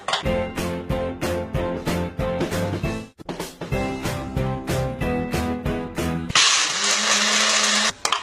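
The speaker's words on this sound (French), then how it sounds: "Alors pour le jus, il vous faut un mixeur." An electric blender whirs while blending a date juice with almond powder, running loud and continuous with pulsing rhythmic churning, a brief pause, then a higher, harsher whine near the end.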